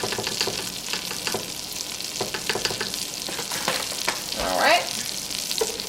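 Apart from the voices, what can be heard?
whisking flour into pan for mac and cheese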